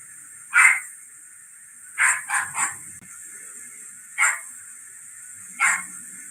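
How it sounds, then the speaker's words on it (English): A small Chihuahua dog gives sharp, high yapping barks, one then a quick triple and two more singles spaced apart, fairly close with no talk. "Did anybody hear a dog?"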